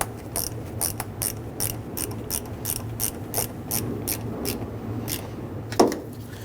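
Ratchet wrench tightening the ground terminal nut on the alternator of a 2007-2021 Toyota Tundra 4.7L V8: a steady run of close, crisp clicks in quick rhythm, with one louder knock near the end and no talk.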